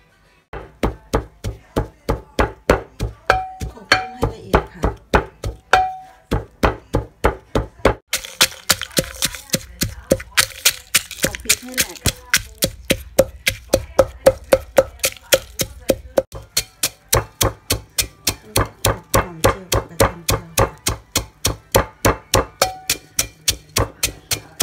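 Ingredients for a Thai roasted chili paste with shrimp are pounded in a mortar, with steady, rhythmic wooden thuds repeating close and loud for the whole stretch.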